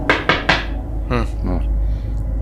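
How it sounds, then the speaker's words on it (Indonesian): Three loud, quick knocks on a bathroom door ring out close by in fast succession, followed by a short burst of voice over a steady low hum. "Tiba-tiba pas lagi mandi, ada yang ngetok pintu kamar mandi Ica."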